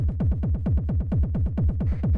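A 909 kick drum playing rapid sixteenth notes through rumble effects, forming a dense, loud, booming low-end bass line in a steady, machine-tight rhythm, with no voices.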